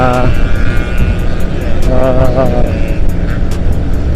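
A modified exhaust on a vehicle passing in city traffic drones loudly and steadily, with a rising and falling engine note, while a person talks over it.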